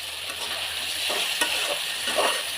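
A spatula stirs a potato and dried fish curry in a pan, soft scraping strokes over a constant bubbling sizzle, close and moderately loud with no voices.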